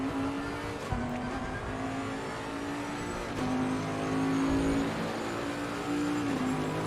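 A Bentley race car holds top speed down the long straight at Paul Ricard in a racing video game, the engine droning steadily at high revs with a few quick gear-shift dips, continuous and fairly quiet.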